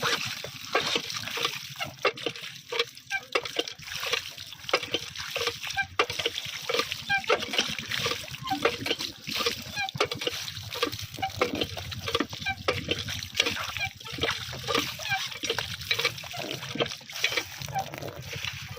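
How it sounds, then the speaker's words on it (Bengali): Water splashes and trickles while a cutting board is washed under a running tap in a home kitchen, with steady flowing noise and repeated scrubbing splatters throughout. "এবার আমাদের কাটার বোর্ডটি নেওয়া হয়ে যাবে ধোয়ার জন্য।"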